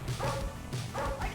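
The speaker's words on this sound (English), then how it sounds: "I can hear the dogs" Digitized dogs bark repeatedly in the arcade game Narc, a run of yips and bow-wows in quick bursts, loud and close against a busy game soundtrack.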